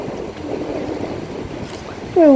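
Small, gentle sea waves wash steadily on Digha beach, a continuous soft surf hiss mixed with wind noise. A brief sound rises near the end.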